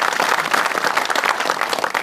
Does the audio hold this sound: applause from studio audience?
yes